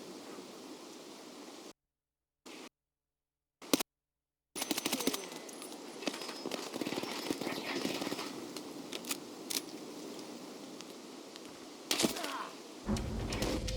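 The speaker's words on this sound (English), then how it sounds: "That's a SVD." SVD sniper rifle gunfire in a shooter video game, with a burst of rapid, sharp cracks and thuds over dense game noise after brief dropouts.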